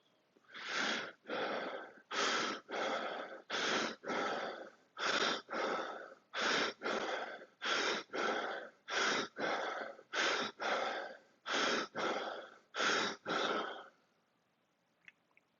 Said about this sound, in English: let's go for our 10 deep breaths, nose or mouth, from the belly right up to the chest, 10 deep breaths.